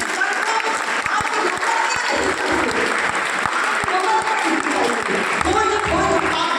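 An audience at a Hindi kavi sammelan poetry recital breaks into dense, sustained applause, with individual claps popping out of the steady wash of hands.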